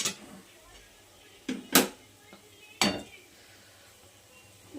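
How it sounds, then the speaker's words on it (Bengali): Mutton being stir-fried in a pot: a few sharp metal scrapes and clinks of a utensil against the pot, separated by quiet stretches of low background noise. "আমি মাংসটা কষাচ্ছি, বেশ অনেক সময় ধরেই কষাবো আমি"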